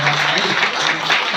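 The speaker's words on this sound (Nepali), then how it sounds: "हामी जोरदार ताली बजाउनेछौँ" A church congregation applauds at a dedication service at Kalebung Church of Jesus, Bidyang: dense, steady clapping fills the whole stretch at close range, with a voice faintly mixed underneath.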